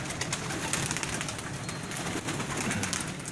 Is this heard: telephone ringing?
no